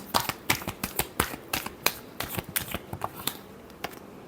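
A deck of tarot cards being shuffled up close: a quick run of crisp, papery riffles and slaps at an irregular, brisk rhythm, tapering off toward the end, with no voices.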